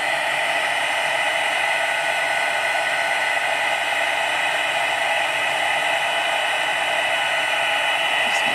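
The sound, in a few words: heat embossing tool blowing hot air on vellum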